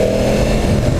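A 2015 Yamaha R1 sport bike's engine roars loudly and close under throttle, a dense, constant rev with no talk over it.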